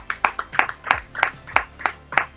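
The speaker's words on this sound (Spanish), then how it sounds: "un aplauso" Audience clapping on an Argentine fan chat show, distinct separate claps in a fairly regular rhythm, a small group close to the microphone, with no other sound.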